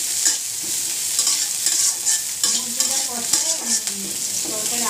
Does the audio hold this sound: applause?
no